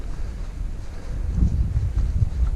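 Wind buffets the microphone at an open campsite at Ketchum Run in low, gusty rumbles that swell and fade, with nothing else audible.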